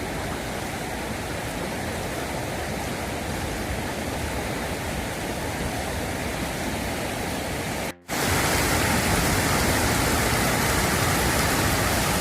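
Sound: water pouring forcefully over dam

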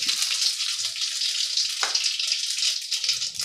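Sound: mustard seeds and urad dal frying in hot oil in a kadai

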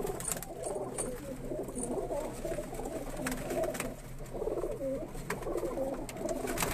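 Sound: Indian red pigeons cooing

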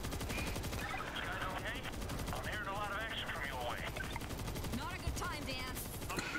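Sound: gunfire in the video game World War Z

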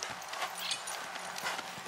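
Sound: criollo horse hooves clip-clopping while worked in corral

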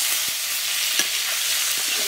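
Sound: potatoes frying in oil

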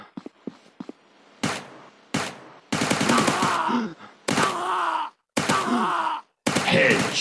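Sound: gunfire in a mobile commando video game

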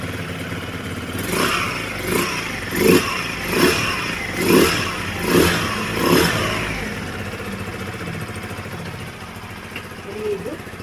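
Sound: 186cc motorcycle engine revving

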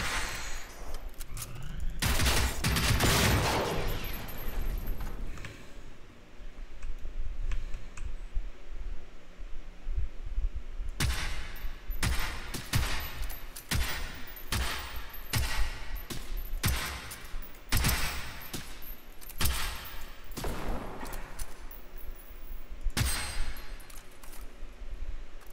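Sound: rifle gunfire in the video game Generation Zero

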